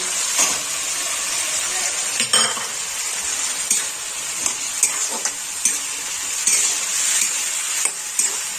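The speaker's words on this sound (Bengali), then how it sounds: "মটরশুঁটিটা একটু ভেজে নেব" Green peas fry in a pan with softened tomato and oil, giving a constant hiss. A utensil stirs and scrapes against the pan in repeated close clinks.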